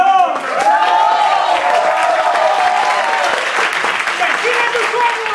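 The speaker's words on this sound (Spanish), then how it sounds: "quiero que le des un fuerte aplauso" A crowd at a screening of The Room in Madrid gives a loud, sustained round of applause, with shouts and cheering voices rising over the clapping.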